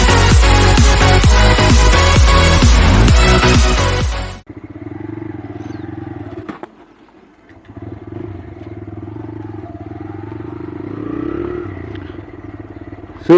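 A 2023 TVS Raider 125 motorcycle is ridden on a road: loud music plays first, then cuts out, and the small single-cylinder engine hums steadily at moderate level, dipping briefly before it picks up again.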